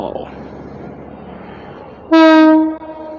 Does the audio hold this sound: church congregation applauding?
no